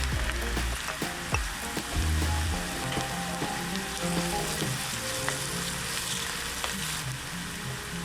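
Ginger garlic paste fries in hot oil in a pan with chopped onion, a dense crackling sizzle running throughout, broken by a few sharp taps and scrapes of a utensil, fairly close and without speech.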